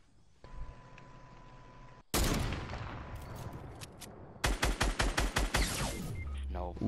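Fortnite gunfire: a loud burst of rapid shots, then a quieter pause, then another run of evenly spaced heavy shots in quick rhythm, with faint game sounds between.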